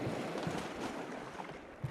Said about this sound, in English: Like the volume of the water in the background.